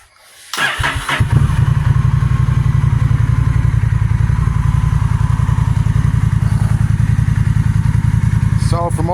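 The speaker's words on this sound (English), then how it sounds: "we have the Cobra slip-on exhaust for the Honda Rebel 1100" A 2023 Honda Rebel 1100 motorcycle fitted with a Cobra slip-on exhaust cranks and starts, then settles into a loud, close idle with an even, rapid thumping pulse that holds steady until the end.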